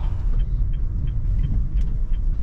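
A manual-transmission car engine hums and rumbles steadily at close range while pulling away and shifting into second gear, with a low, continuous drone and slight rises in pitch as it pulls forward.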